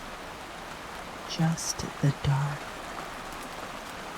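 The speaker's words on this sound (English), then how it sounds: "Just the rain now." Heavy rain falling steadily on a cozy cabin, a constant soft hiss filling the whole stretch, with a few brief spoken words rising over it midway.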